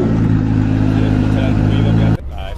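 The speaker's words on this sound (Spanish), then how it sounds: "Arranca, mira cómo ruge" A car engine roars loudly and steadily at close range with a deep, harmonic growl, then cuts off abruptly near the end, leaving quieter background noise.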